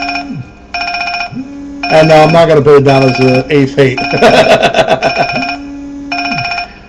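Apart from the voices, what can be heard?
telephone ringing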